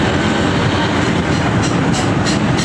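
A Honda CG 125 motorcycle engine with a cam gear noise problem runs close by, giving a steady, loud mechanical roar with a faint rhythmic ticking throughout and no talk.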